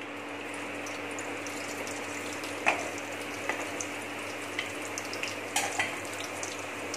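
Cumin seeds crackle in hot desi ghee in a pan for khade masoor dal, a steady soft hiss with sharp pops and clicks scattered irregularly through the clip, close and moderately loud, with no talking.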